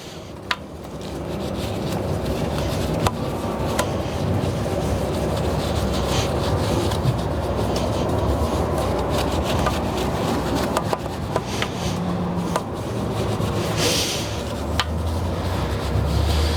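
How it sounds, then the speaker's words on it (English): A brush working non-acid cherry wheel cleaner into a car wheel with light pressure, giving a steady, continuous close-up scrubbing swish broken by a few small clicks and knocks. "I'm not applying a lot of pressure with this brush, I'm basically just using it to work the product in."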